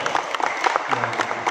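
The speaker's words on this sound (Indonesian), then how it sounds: "Tepuk tangan dong." An audience claps during a talk at Pos Bloc in Central Jakarta about bicycle communities, a quick round of individual claps heard fairly close, irregular and brief.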